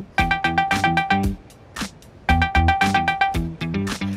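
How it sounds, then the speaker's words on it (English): A phone ringing in bursts inside a walking-simulator game, its rapid electronic trills blended into a song, with two ringing phrases split by a short pause and a few brief extra tones. "Ignore the phone, it's part of the song."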